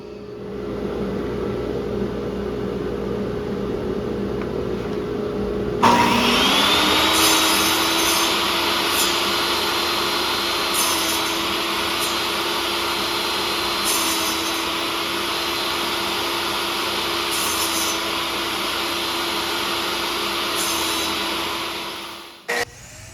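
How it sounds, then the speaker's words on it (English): A table saw cuts lap joints in wooden pieces for a Star Wars–inspired end table: the blade spins up with a sharp onset, then a steady loud whine and drone holds through repeated passes before winding down at the end. "in my experience, it's much easier to be exact using the table saw"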